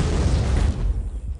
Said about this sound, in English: I have a rocket launcher.